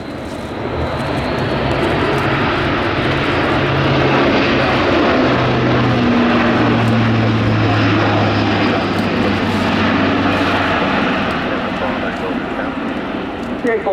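A Luftwaffe Airbus A400M military transport aircraft in a flying display at RIAT, its turboprop engines giving a loud, steady, continuous drone with a low humming tone, with a commentator talking over the engines.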